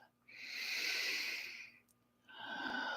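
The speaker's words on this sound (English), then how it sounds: "take a deep and clearing breath" A deep clearing breath at the close of a meditation session, a long drawn-in inhale followed after a short pause by a breathy exhale, close and soft, with no talking.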